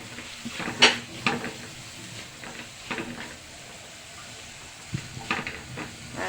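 Spices, black pepper and dried chili powder, stirred into vegetable egg fried rice in a pan: a soft sizzle under intermittent scraping and clattering strokes, close by.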